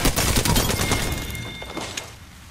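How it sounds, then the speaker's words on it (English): Enemy gunfire in a shooter video game: a dense burst of rapid rattling shots, loud at first and gradually fading over a couple of seconds, with no talk. "The enemies are shooting at me."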